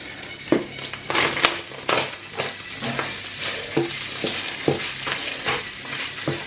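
Flour and meat cook in a pan for loaded fries, a busy sizzle broken by repeated scraping and stirring strokes of a utensil, close and moderately loud.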